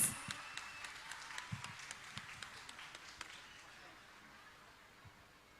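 Audience applause at a music and folklore festival in Silifke, heard as a crowd clapping with scattered sharp claps that thin out and fade over several seconds.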